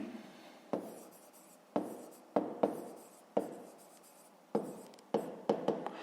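A pen writes on paper while working a fifth-grade math exercise, giving about eight quiet, close scratchy strokes that start sharply and fade out, separated by short pauses.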